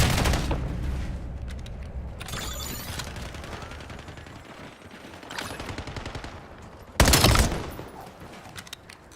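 Automatic and burst gunfire in the shooter video game Black Ops 7, loud volleys with sharp peaks around the middle and near the end, continuous shooting throughout with no talking.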